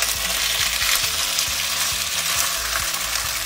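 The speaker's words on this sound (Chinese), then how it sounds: "两面煎到这样子恰恰就可以了" Food sizzling steadily as it fries on both sides in a pan, with a dense continuous crackle and occasional soft knocks, close by and without talk.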